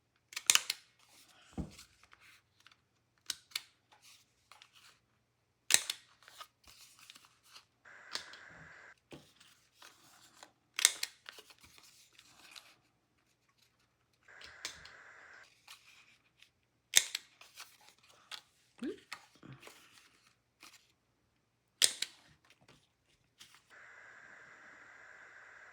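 Corners of a paper ephemera folder being clipped round with a corner punch or scissors, giving sharp isolated snips and clacks in clusters separated by quiet pauses, with faint paper handling between cuts.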